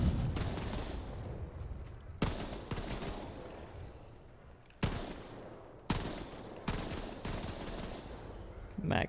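Gunfire from a weapon in Black Ops 3 zombies, a camping-themed custom map, rattles out in several sustained bursts separated by brief pauses, loud and close with no talk over it.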